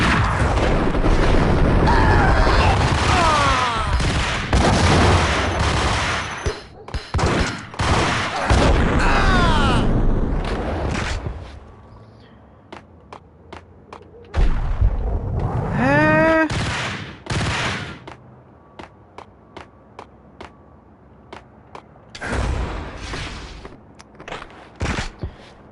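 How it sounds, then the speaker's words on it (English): Gunfire rattles through a Max Payne shootout in loud repeated bursts and single shots, separated by short lulls and dying away with some echo. "Gun him down!"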